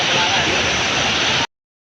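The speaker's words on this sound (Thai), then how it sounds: "น้ำตกสวยมาก" A waterfall at Khao Kho in Phetchabun pours as a loud, dense, continuous roar close by, then cuts off abruptly.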